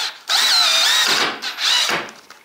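Makita CXT FD06Z drill driver set to low range driving a screw, a loud whining motor run in two close bursts with a short pause between, no talking.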